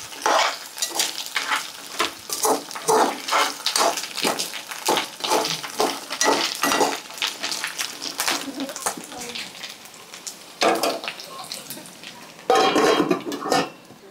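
Crab pieces with ginger cook in a pan, giving a steady sizzle with scattered stirring scrapes and clinks of a utensil against metal, close and fairly loud throughout.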